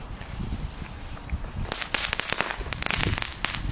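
Cheap supermarket firecrackers from Aldi going off outdoors, a run of sharp cracks and pops clustered in the latter half, some loud and close, after a quieter stretch of low rumbling background.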